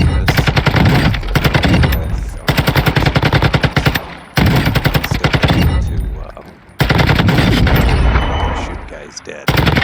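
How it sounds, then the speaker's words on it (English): Rapid bursts of TAC 56 rifle fire in a first-person shooter game, loud and close, coming in several sustained strings with short pauses between them. "The TAC 56, it's slow shooting, not jitteriness."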